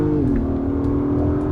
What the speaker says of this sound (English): Immediately you hear it revving up, and we're going to give it one quick blast here.